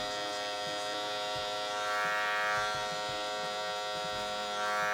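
An electric hair clipper cutting a taper fade at a barbershop, a steady close buzzing hum that continues throughout with slight swells as the blade angle shifts.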